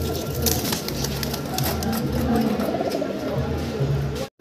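Pigeons cooing continuously at a fancy pigeon seller's loft, with several birds overlapping in low, throaty, repeated coos at close range, mixed with rustling and background chatter.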